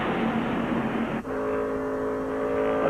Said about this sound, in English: Let's listen to Mark Martin's car as he tries to make up on Jeff Gordon